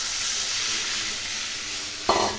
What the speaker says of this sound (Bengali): কষানো হয়ে গেছে, তেল ছেড়ে দিয়েছে। এর মধ্যে জল দিয়ে দিলাম।